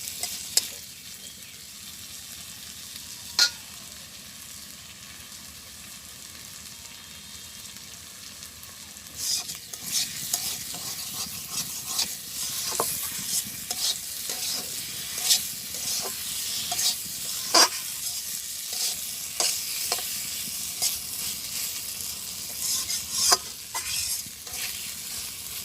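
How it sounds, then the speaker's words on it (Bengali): Eggplant sautéing in a pan in a village kitchen, a steady frying sizzle with sharp scrapes and clacks of stirring that grow busier and louder partway through, no voices. "বেগুনটা কষাই নেই।"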